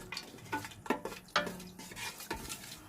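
Bay leaves, cardamom and other whole spices stirred in a pot for fish dum biryani, faint close scrapes and clinks of a spoon against metal at an uneven rhythm over a soft background sizzle.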